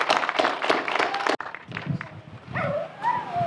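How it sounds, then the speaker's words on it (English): Outdoor gathering at Moon Lake: a crowd gives a short burst of applause welcoming a speaker to the stage, then it stops abruptly and quiet talk and shuffling follow. "big round of applause"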